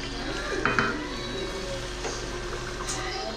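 A pot of kaldereta stew with carrots and potatoes bubbling and simmering steadily on the stove, with a soft continuous sizzle and a couple of light clinks of a spoon against metal.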